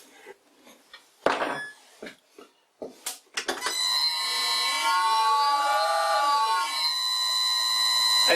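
Home-made lathe motor running with its belt slipping on the small pulley: a loud, steady whine with a rising-and-falling squeal, preceded by several short knocks and bursts.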